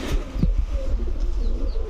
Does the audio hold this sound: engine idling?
no